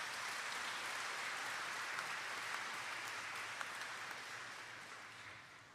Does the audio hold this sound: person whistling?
no